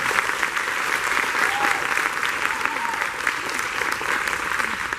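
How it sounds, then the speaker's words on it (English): Sustained audience applause for a high school jazz band at a spring concert, a dense steady clapping from a full room that continues evenly for the whole stretch, with faint background voices mixed in. "one more round of applause for our awesome jazz band"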